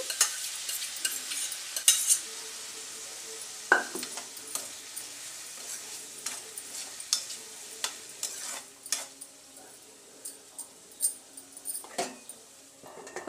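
Spoon stirring carrot curry with boiled chana dal in a pan, steady scraping and clinking strokes over a soft sizzle, close and continuous with sharper knocks against the pan now and then.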